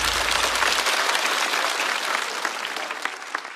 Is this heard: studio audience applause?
yes